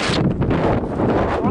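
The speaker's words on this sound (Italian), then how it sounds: "Guarda che vento." Strong wind on a Dolomites mountainside buffets the microphone, a loud, constant low roar with gusty rustling and no voices.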